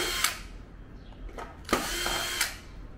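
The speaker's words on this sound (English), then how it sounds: "So first we should take the screws of the main board" A power screwdriver removing screws from the main board of an Ocean King 3 Plus fish table arcade game, short close whirring bursts with pauses between them.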